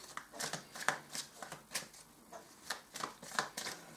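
Tarot cards being shuffled by hand in quick, rhythmic riffling bursts, close and fairly quiet, with no talking.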